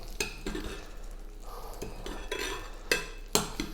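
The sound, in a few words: figs basted with butter in a pan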